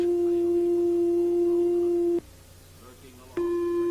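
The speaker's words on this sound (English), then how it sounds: "This is a sine wave." A steady, pure electronic sine tone hums, cuts out briefly to low background noise, then resumes at the same pitch.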